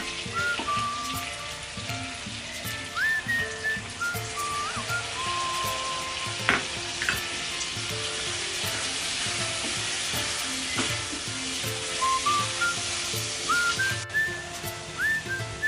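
Chicken stock poured bit by bit into sizzling fried meat for butter chicken, a steady loud frying hiss with bubbling crackle and sharp spits throughout, no talking.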